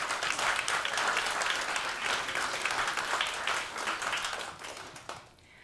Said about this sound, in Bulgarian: Още веднъж аплодисменти за Славена Даскалова и Симеон Германов